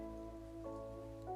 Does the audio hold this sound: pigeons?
no